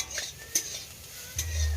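Stirring a curry of banana stem, papaya and potato in a pot at home, with a few soft scraping strokes and faint clinks close by, and a low background hum.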